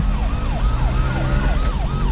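An ambulance siren wails in a steady repeating up-and-down pattern, loud and close, with traffic rumble underneath.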